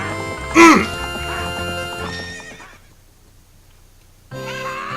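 A horse whinnies sharply near the start over game music in The Legend of Zelda: Ocarina of Time, then the sound fades to near silence before music returns.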